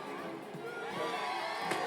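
A crowd cheers in an arena during the Corneo Cup in Final Fantasy VII Remake, a dense, steady wash of many voices shouting and whooping that swells slightly toward the end.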